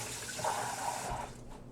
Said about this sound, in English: I am rinsing and drying them.